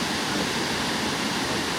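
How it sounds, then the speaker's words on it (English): Blackwater Falls in Blackwater Falls State Park: a steady, broad roar of falling water, constant and unbroken, loud and enveloping with no voices over it. "this is Blackwater Falls at Blackwater State Park"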